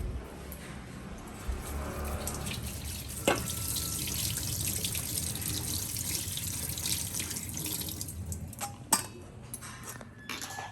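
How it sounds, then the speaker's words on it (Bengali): Chicken and other ingredients for chilli chicken washed in a kitchen sink under a running tap, a steady close rush of water with occasional clinks of dishes and a few drips near the end. "তো চিলি চিকেনের জন্য মা এগুলো সব ধুয়ে নাও।"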